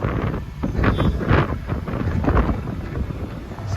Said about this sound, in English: Wind gusts of up to 25 miles an hour.